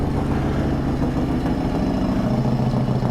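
A 1994 Harley-Davidson Softail Heritage Classic motorcycle warming up at idle, a loud, close, steady low rumble with an even pulsing throb and no voices.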